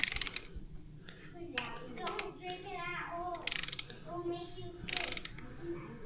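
A wrench turns the bolts of aftermarket fork lug guards on a motorcycle fork, making repeated quick ratcheting clicks in short close bursts, with a voice speaking between them.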